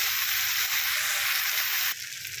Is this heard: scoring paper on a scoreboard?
no